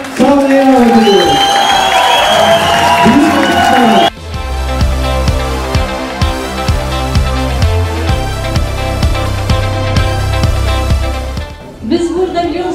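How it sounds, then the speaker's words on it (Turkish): A studio audience bursts into loud applause with some cheering to welcome a guest onto a Turkish talk-show stage, a host's voice ringing over it at first before the clapping carries on steadily, fading near the end. "Alkışlarımızla Gülnar Hanım'ı sahneye alıyoruz."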